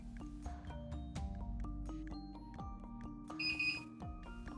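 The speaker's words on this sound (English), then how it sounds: "Hearing the beep means that the calibration procedure was successfully completed" A high electronic beep signalling completed calibration sounds near the end, standing out over a busy backdrop of shifting tonal music.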